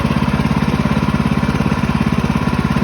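Sawmill engine running steadily while a pine log is milled, a loud close rhythmic idle-like drone with an even pulsing beat and no voices.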